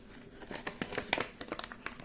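A cellophane plastic bag crinkles and rustles in a run of irregular, close crackling bursts, with no talk over it.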